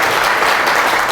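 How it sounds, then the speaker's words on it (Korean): A lecture audience gives a brief burst of dense, steady applause to welcome a speaker at a character-education talk. "큰 박수로 환영해 주시기 바랍니다."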